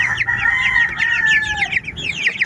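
Chickens and chicks raised as backyard poultry, with a loud near cluck and crow-like call over a busy bed of high chirping and peeping from chicks, no talk.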